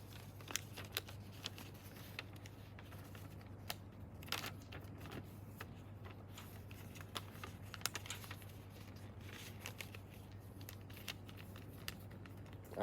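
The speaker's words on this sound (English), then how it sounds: "Next, we're going to fold the paper in on itself to create a tiny small triangle." Paper being folded into an origami crane, with soft crinkles, light taps and scattered crisp creases spread at irregular intervals over a low constant hum, close and quiet with no talking.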